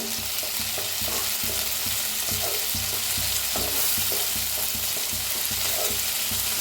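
Okra with onion, tomato and fresh coriander frying in a pan, a loud dense sizzle throughout with rhythmic scrapes and knocks of a spoon stirring the vegetables, close up.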